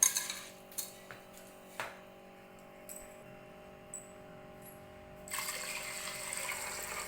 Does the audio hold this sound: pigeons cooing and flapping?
no